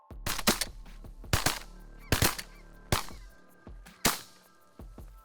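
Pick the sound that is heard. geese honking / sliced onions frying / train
geese honking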